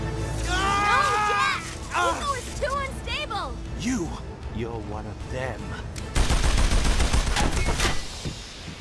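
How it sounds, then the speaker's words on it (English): Pirates' gunfire from the video game Jak and Daxter: The Lost Frontier breaks out as a loud, dense burst near the end, after several seconds of voices talking. "Those crazy pirates must have shot us!"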